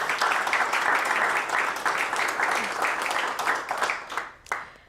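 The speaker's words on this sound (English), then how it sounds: "One more round of applause." An audience at an awards announcement gives a round of applause, a full, dense clapping that holds steady for several seconds and then thins out and dies away near the end, with a final few claps.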